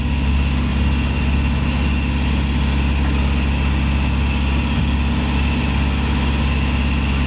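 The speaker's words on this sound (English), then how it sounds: "he's obviously ungoverned his engine, and considering that's on a hydraulic drive, I think they're about 50 or so horsepower, but he's certainly going for it" Ungoverned engine of a motor boat on hydraulic drive, about 50 horsepower, on the Norfolk Broads, a loud steady droning roar with a constant low throb and no change in pitch throughout.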